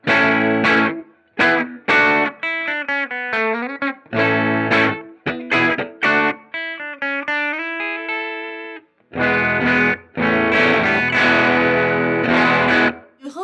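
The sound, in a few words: electric guitar through germanium boost pedal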